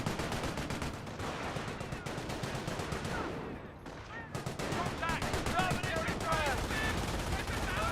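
Rapid, continuous MG42 machine gun fire rattles in the Company of Heroes game, a dense string of fast shots with a brief lull midway, mixed with other battle noise and a commentator talking over it.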